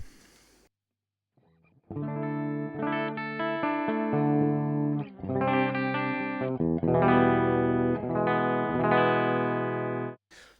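An electric guitar played through a cabinet simulation with no pedals strums loud, thick chords with a washy, slightly harsh tone, several sustained strums ringing out before stopping abruptly.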